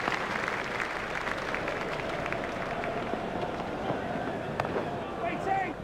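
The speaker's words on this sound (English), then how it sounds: "He's getting a standing ovation from this excellent crowd." In the Cricket 2002 video game, a stadium crowd gives steady, dense applause and cheering during an India vs Australia one-day match, a continuous roar with scattered claps and no clear speech.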